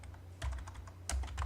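Computer keys and mouse clicks tap close and quick during AutoCAD drafting, a short irregular run of crisp clicks ending in a firmer Enter press, with no talk.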